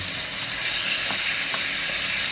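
Chicken pieces frying in hot oil until browned for chicken afritada, with a steady, loud, close sizzle that runs throughout and a few faint clinks of stirring, with no voices.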